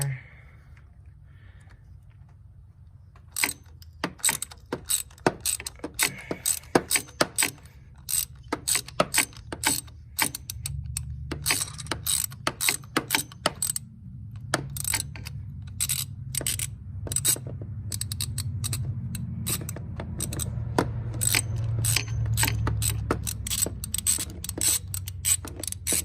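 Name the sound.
3/8 ratchet with 16mm socket removing Chevy Trailblazer spark plugs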